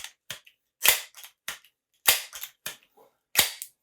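A Crosman 1377 air pistol, pumped five times, fires pellets in a series of sharp, close, loud cracks, about six distinct shots with short gaps and faint handling clicks between them, no talking.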